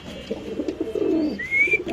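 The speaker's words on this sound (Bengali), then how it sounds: "দর্শক দেখেন নরের ডাক পুরো কাজল চোখের কবুতর" A male kajal-eyed pigeon coos softly in a short burst, followed by a brief higher chirp, the bird close and calm with no talk over it.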